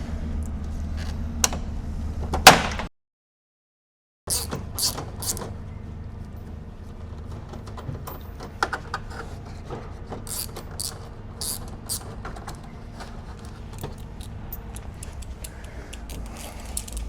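Plastic grille clips being pulled free from a 2025 Ford F-150 Tremor grille give a run of small clicks, creaks and snaps, with a louder crack near the start, a brief silent gap, then scattered ticks over a low background.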